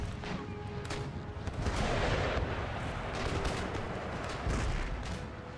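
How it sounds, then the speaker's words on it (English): Naval cannons fire round shot in an Empire Total War sea battle, heard as a dense, rolling barrage of heavy booms and crackling blasts that continues steadily throughout, with a few louder swells. "Just pummel her with round shot."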